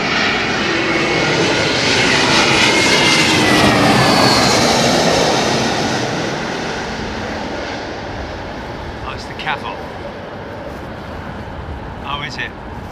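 Airliner landing in a crosswind at London Heathrow, a strong jet roar with shifting whine that peaks early and fades into a lower rumble, then brief voices and faint clicks toward the end.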